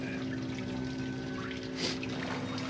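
Water trickling in the sewers of the horror game Outlast, a steady low pour with a brief splashy swell near the end, heard alone.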